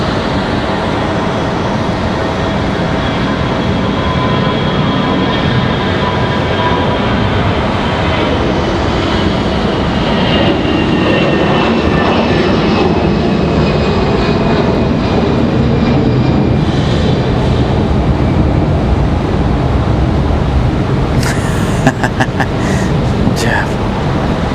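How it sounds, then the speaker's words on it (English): A Delta Airbus A319 jet airliner takes off from Raleigh Durham airport, a steady loud engine roar that swells and holds through the whole clip, with faint clicks near the end. "Here goes Delta off to Orlando."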